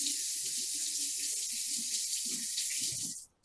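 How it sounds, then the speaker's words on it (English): Tap water runs steadily as hands are rinsed in a kitchen sink during a cooking demonstration, a continuous close hiss that stops abruptly near the end. "let me just rinse my hands and then we will close up"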